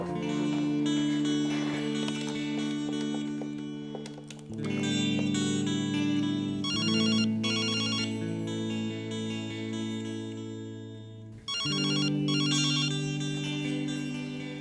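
A telephone rings in a home with a melodic electronic ringtone. The loud, repeating phrases cut off and restart twice, with no one talking.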